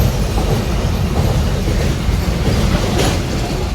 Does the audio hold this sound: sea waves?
no